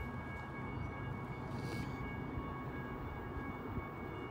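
A continuous low rumble of a freight train rolling past near Flagstaff, steady and broad with a faint whine and brief metallic squeal, no voices.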